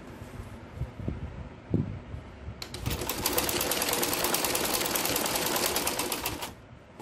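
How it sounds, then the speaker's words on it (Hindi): A sewing machine stitches a salwar at home, running as a steady, fast, rattling hum for about four seconds after a few soft knocks and fabric handling sounds. "इसने भी ऐसे एक सिलाई ऐसे लेके और एक सिलाई ऊपर से मारेंगे"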